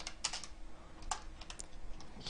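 Quick, light bursts of typing on a computer keyboard, a few irregular clusters of keystrokes close by and fairly quiet, with no talking.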